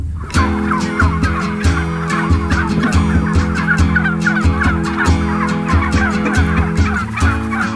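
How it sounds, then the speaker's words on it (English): Turkeys gobble loudly and continuously on a farm, a dense flock of overlapping rattling calls with no talking. "and these are my turkeys."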